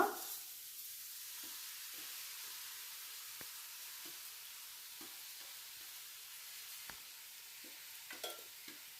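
Rice, beans and other vegetables being stirred in a pan for vegetable pulao, with a steady soft sizzle and repeated light scraping taps of the spoon, close and fairly quiet, without talk.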